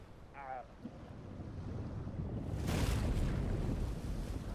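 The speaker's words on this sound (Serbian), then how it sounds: "A, ovo je neki teretni brod" In the Dave the Diver game, a cargo ship at sea gives off a low, rumbling wash of water and wind that swells louder midway, with a brief faint voice near the start.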